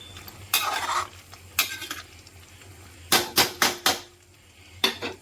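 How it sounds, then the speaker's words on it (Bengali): Chili chicken with white sesame stirred in a pan, a faint sizzle under several sharp spoon scrapes and knocks, first spaced out, then a quick run of four, then one more. "এবার ভালো করে আবার সব শুদ্ধ মিশিয়ে নেবো"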